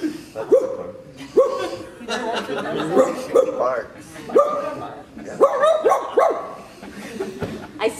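A voice imitates a somewhat bigger dog barking, producing a series of deeper woofs and barks in irregular bursts, close up, with some chuckling mixed in.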